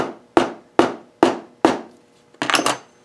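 A hammer strikes a small hardened steel punch on metal five times in an even rhythm, each sharp ringing blow close and loud, followed by a quick rattling burst of lighter taps.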